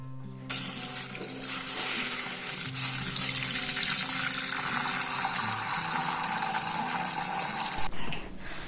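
Tap water gushes steadily into a bucket or tub for a bath at home, a loud continuous close-up stream lasting several seconds before it cuts off.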